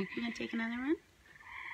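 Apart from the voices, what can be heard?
tree frogs calling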